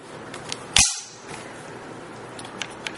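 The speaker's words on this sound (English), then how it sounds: "It has a functioning bolt catch, unlike the Colt version." A bolt catch on a Smith & Wesson M&P 15-22 rifle snaps shut with one loud, sharp metallic clack up close, followed by a few faint ticks in a quiet room.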